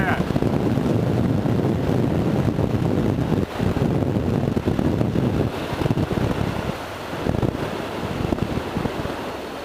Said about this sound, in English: I'm just catching so much wind.